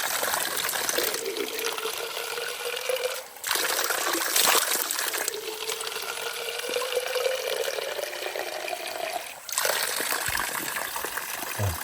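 Mountain spring water in the Carpathians trickles and splashes steadily nearby, a continuous bright gurgle that shifts slightly in tone as it flows.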